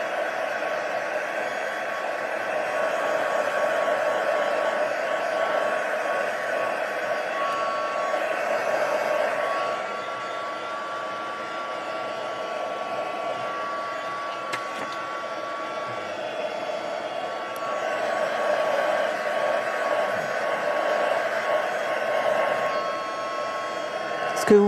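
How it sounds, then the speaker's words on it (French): A heat gun drying vellum paper blows a steady, continuous, close whooshing roar with a faint whine, running throughout at an even level with slight fluctuations. "je vais juste utiliser un tout petit peu de pistolet chauffant pour sécher un peu plus mon papier vélin"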